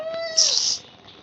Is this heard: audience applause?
no